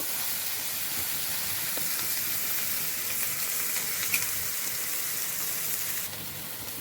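Dry fish curry sizzling and frying in a hot pan while it is stirred, a steady crackling hiss throughout with occasional spoon scrapes, fairly close and even in level.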